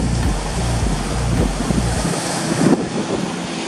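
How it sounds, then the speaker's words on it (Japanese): Strong, cold offshore wind blows across a Sea of Japan surf beach, making a steady roar of wind buffeting the microphone over the wash of breaking waves and surf, with no voices. "オフショア添え風程度というよりは今しっかり吹いてます"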